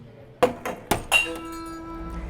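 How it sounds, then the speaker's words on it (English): Glass packaging drops through the small holes of a street recycling bin, giving three or four sharp clinks and thunks in quick succession, close and loud, the last one ringing briefly. "You need to separate the glass, plastic, and other packaging, and then put each item in these tiny holes one at a time."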